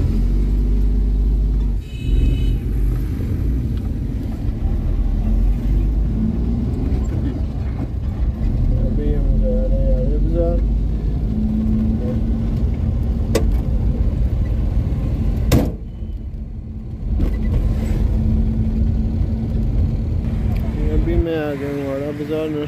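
Loaded nursery goods vehicle heading to market, with a steady low engine rumble running throughout, one brief sharp knock midway and people talking over it nearby.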